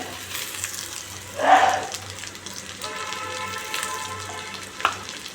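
Green peas tipped into a pan of potato curry frying in oil, a brief splash-like hiss rising over a steady low sizzle, with a small clink near the end.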